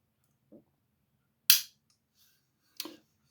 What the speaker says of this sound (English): So we'll put that back on dry fire, and again ball detent on that.